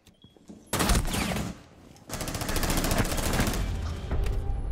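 Sustained video game gunfire in a rapid fusillade, loud and continuous with dense machine-gun bursts, a brief dip, then renewed heavy shooting to the end.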